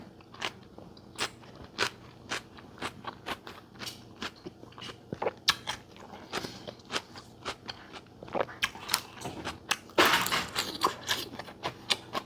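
Close, crisp crunching and biting as Thai sour shrimp salad with fresh raw vegetables is chewed, a steady run of crackly bites growing louder and denser toward the end, no talk.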